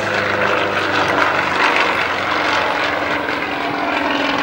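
A Sukhoi Su-31 aerobatic airplane performs stunts at an air show, its propeller engine roaring loud and steady throughout with a slight swelling and easing in pitch.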